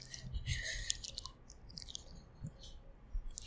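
An 18-month-old toddler chewing a snack close to the microphone: soft, wet mouth clicks and smacks come in irregular bursts, quiet and intimate, with no talking.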